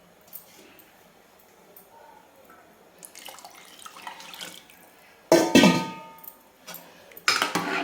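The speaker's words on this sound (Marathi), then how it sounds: "आणखी थोडंसं मी पाणी याच्यामध्ये टाकणार आहे" Water poured into a spicy mutton curry in a pot, a sudden loud splashing pour after quieter clinks and drips, followed by a second shorter splash.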